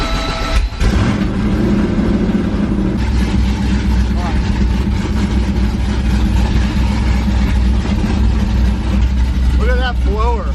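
A supercharged blower engine on the Freedom Rocket car runs loud and steady, a deep continuous rumble with a brief dip near the start, while people talk over it.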